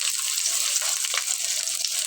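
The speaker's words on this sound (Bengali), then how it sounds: "তেল গরম হয়ে গেছে, দিয়ে দিচ্ছি রসুন কুচি দিয়ে দিলাম" Chopped garlic drops into hot oil in a pan with a chili, turmeric and spice mix, giving a steady, close, bright sizzling hiss that continues unbroken throughout.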